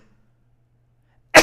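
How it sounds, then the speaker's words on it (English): Near silence, then one sudden, loud, sharp burst at the very end, like a sneeze close by. "I'm gonna sneeze."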